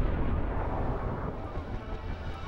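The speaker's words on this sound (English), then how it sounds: "so let's say with that gunshot" A heavy, booming blast with a dense low-end rumble that sustains for a couple of seconds, like a layered gunshot effect with a long tail.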